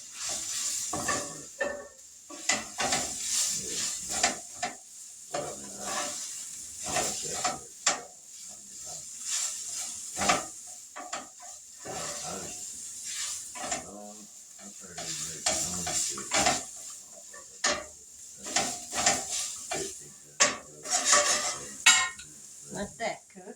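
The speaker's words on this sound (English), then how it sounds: "Stir the sausage." Sausage stirred and scraped around a sizzling pan while making homemade pizza, with repeated utensil scrapes over a constant frying hiss, close up, and a voice speaking now and then.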